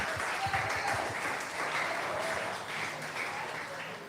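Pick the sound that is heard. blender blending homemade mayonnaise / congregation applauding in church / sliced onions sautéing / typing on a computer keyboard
congregation applauding in church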